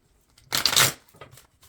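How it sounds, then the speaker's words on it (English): A brief burst of tarot card shuffling, a crisp riffling flutter lasting under half a second, followed by a few softer shuffles and light handling. "I should shuffle these first."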